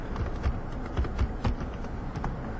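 Soft computer keyboard typing while a meeting request is entered in Outlook, a steady patter of irregular key taps over a constant background hum, with no one speaking.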